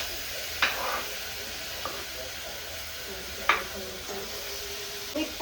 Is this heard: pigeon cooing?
no